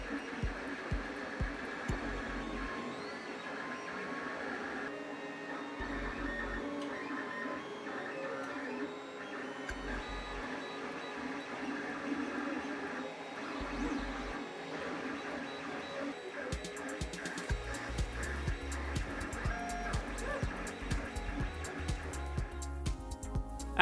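A 3D printer lays down a part with water-soluble support material, its stepper motors whirring and buzzing in steady, shifting tones close by, with busier rapid clicking movements in the last few seconds.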